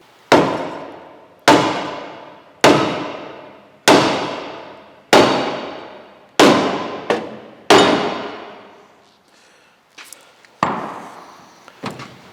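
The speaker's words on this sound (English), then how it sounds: "I'm going to find probably a hammer that's too big for the job" Heavy hammer whacking a classic muscle car K-member, about ten sharp metallic strikes with ringing decay at a steady pace, then a few lighter, irregular hits near the end.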